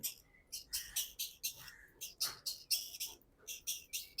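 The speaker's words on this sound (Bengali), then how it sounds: "আর এই পাখিগুলো এখন খুবই শব্দ করে" Young pond heron chicks kept outdoors chirping in rapid, high, thin bursts, about a dozen sharp calls in quick irregular succession, close and fairly faint.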